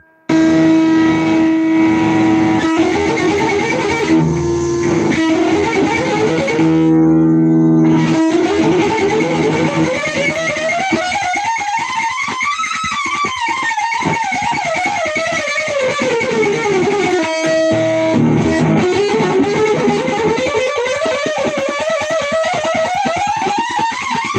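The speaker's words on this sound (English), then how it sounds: "Let's see how it sounds with distortion." An electric guitar plays a homemade scary scale through heavy distortion, loud and sustained notes sliding up and down with a brief gap midway, gritty and buzzing throughout with no talk.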